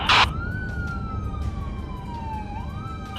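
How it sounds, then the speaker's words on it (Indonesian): A fire truck's wailing siren sweeps slowly up and down over low rumbling traffic noise, with short bursts of broadband noise at the start and end. "Sebuah truk pemadam kebakaran sedang dalam perjalanan."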